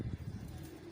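Fighter pigeons, a newly gifted pair, give a short, low, close coo over a soft background murmur.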